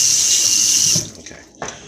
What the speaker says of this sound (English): I'll rinse my hands off.